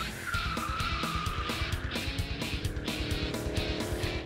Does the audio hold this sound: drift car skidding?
yes